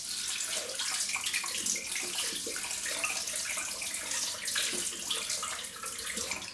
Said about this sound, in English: I will be using the hot tap on maximum heat to dissipate the probably congealed coconut oil from the razor head.